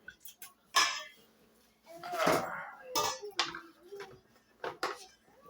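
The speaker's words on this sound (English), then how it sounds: "we're going to scrape our butter out of our pan" Softened butter is scraped out of a pan for Italian butter cookies. Close metallic scrapes and knocks of a utensil against the pan come in irregular bursts, with a voice talking alongside.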